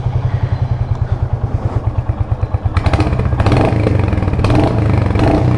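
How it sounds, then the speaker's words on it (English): A Royal Enfield Hunter 350 single-cylinder motorcycle engine thumps at a steady idle, then revs up into a louder, busier running note that holds close by. "Exhaust note is good, right?"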